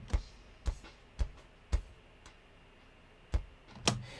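Sparse, clipped drum hits with abrupt cutoffs, a few strong low thumps and sharper snaps separated by near silence, fairly quiet and dry.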